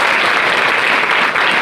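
A church congregation at a Christmas program claps in thanks, a loud, dense and continuous burst of applause from a crowd that holds steady from start to finish.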